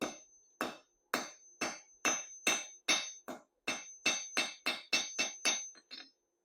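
Hammer blows forging a quarter-inch round steel bar on an anvil, about fourteen sharp ringing strikes in a steady rhythm, close and loud, each with a metallic ring, no talk.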